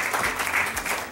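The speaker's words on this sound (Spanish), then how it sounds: "Fuerte aplauso, por favor." Conference audience applauding for a guest speaker, a dense, steady wash of clapping filling the whole short moment at moderate loudness.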